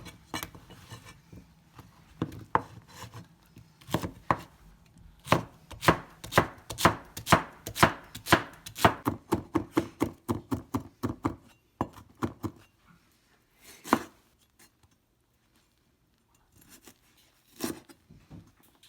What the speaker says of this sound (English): I am going to chop up the zucchinis and carrots